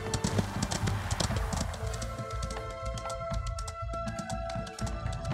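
Horse hooves clip-clop at a steady riding pace in the Ostwind video game, even and continuous over a layer of game music.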